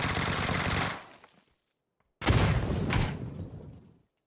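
Loud bursts of automatic gunfire in the PUBG battle royale game, a sustained volley that cuts to silence, then a second heavy burst that slowly fades.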